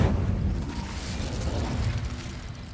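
Incendio fire spell being cast in Hogwarts Legacy, a dense rumbling blast with crackling burst texture sustained steadily at close range for a few seconds, no talking.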